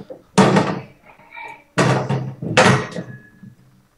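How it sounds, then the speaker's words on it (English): A door is closed in a room during a conversation, giving a few solid thuds and knocks spread over a few seconds, fairly close and loud. "I'm gonna close the door."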